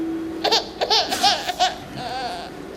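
A child's crying is used as a stage sound in a Hindi stage play, heard as several short, wavering, broken sobbing bursts over a steady low hum.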